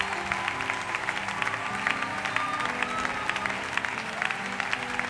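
A church congregation claps steadily in rhythmic applause, moderately distant, with some voices mixed in beneath the clapping.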